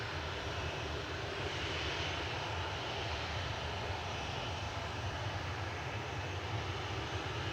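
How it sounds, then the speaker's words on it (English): A Kuwait Airways Airbus A330-900neo arriving at Manchester Airport produces a steady, broad jet engine roar that holds at an even level throughout, heard from a distance with no talk. "A Kuwait Airways Airbus A330-900 Neo, registration 9K APN, arriving from Kuwait City."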